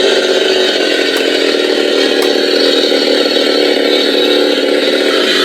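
A Trick or Treat Studios replica of the 1974 Texas Chainsaw Massacre chainsaw prop idles, giving a steady, loud, continuous buzzing drone throughout with a couple of faint clicks and no talking.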